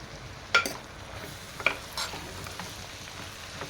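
A spoon scrapes and clinks against a pan while tomato dal with chili powder and salt sizzles softly underneath, with a few sharp taps and no talking.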